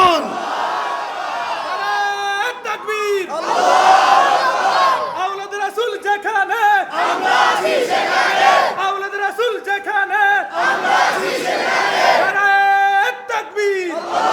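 A large crowd at an Islamic religious gathering at a madrasa shouts the takbir chant in loud, repeated call-and-response bursts, voices swelling together in rhythmic waves with brief gaps between chants.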